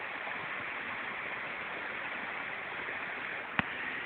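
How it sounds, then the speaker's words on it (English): Creek flowing inside a cave in the Blue Mountains, a steady hissing rush of water at moderate distance with one brief sharp knock near the end. "The creek just in front again."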